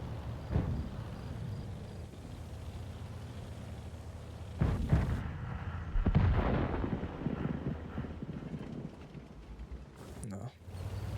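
Booming tank gunfire in the video game World of Tanks, a few heavy blasts spread over a low rumbling engine and battle bed, with a player talking over it.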